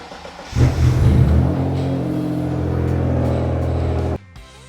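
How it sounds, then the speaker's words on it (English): Mitsubishi GTO twin turbo engine cranks and fires, then settles into a loud, steady idle rumble as the car drives into a workshop bay, cutting off abruptly near the end. "let's see if the GTO starts and I can drive it into this bay."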